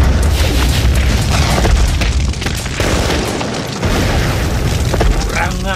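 Explosion effects in an Indonesian martial-arts audio drama form a loud, sustained roar of booming blasts that fills the whole stretch, with no dialogue heard.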